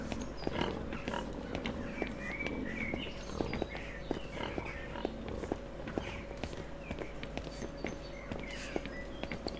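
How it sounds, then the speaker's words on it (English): Pigs in the video game Pentiment, faint grunts and snuffles scattered over steady ambient hum, with soft footsteps and light clicks throughout. "Pigs."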